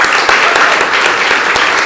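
Loud, close crowd applause at a monthly community gathering, a brisk, dense burst of many hands clapping at once with no voices.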